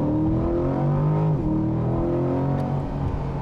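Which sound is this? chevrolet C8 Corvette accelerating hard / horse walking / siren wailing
chevrolet C8 Corvette accelerating hard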